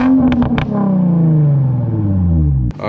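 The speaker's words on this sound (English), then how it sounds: "I'm gonna pull over in just a second just to give y'all some revs." An Infiniti G35 with a Vibrant resonator and muffler delete revs hard with a loud, throaty exhaust, then the pitch slowly winds down as it settles, close and alone.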